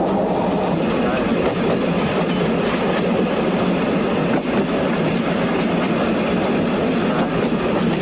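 Passenger train running on rails across Poland, a steady loud rumble with faint rhythmic clatter continuing without a break.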